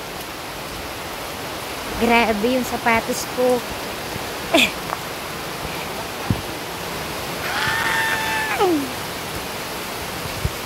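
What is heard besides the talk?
rain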